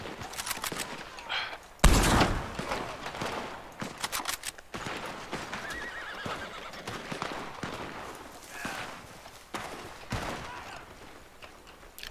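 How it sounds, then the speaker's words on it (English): Gunfire in the Red Dead game: repeated sharp shots and bursts crack across the scene, one loud blast standing out, amid horse whinnies and hoof clatter in a busy outdoor fight. "He started shooting."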